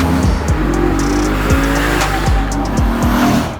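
Lexus RC F engine and exhaust while driving, a loud close engine roar with repeated quick pitch drops from fast gearshifts and crackles at the top end.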